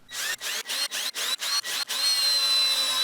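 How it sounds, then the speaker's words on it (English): A power drill drives screws into a wooden dartboard cabinet frame in a series of short bursts with brief gaps, then settles into one sustained run, whirring close and clear. "drove in the screws"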